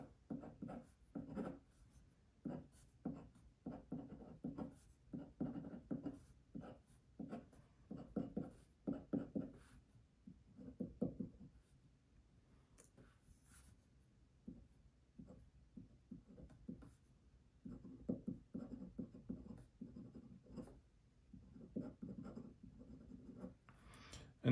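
Hand drawing of chemical structures for a lesson on double bonds, with pen or pencil strokes scratching on paper in quiet, irregular bursts with short gaps, close and soft.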